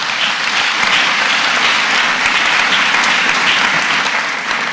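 Audience clapping at a church healing service, a dense, steady burst of applause filling the whole stretch at close range, with no break.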